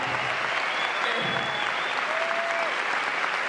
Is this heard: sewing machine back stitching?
no